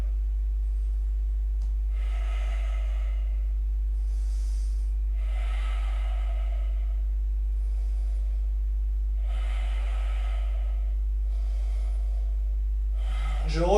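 Slow, controlled breaths during a standing balance exercise, soft airy inhales and exhales repeating at even intervals over a steady low hum, with a brief voice at the very end.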